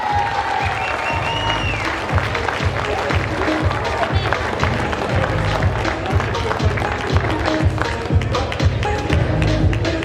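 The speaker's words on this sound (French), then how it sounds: "Applaudissements pour Monsieur Clément Ozin" Sustained audience applause for the winner of a bouldering climbing competition final in Chaumont, dense and steady throughout, with crowd noise and thumps mixed in under a loud announcer's voice.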